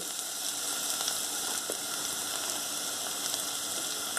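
Minced pork frying in a pan with garlic and spring onion for a Bolognese sauce, a steady soft sizzle throughout with faint crackles and no talking.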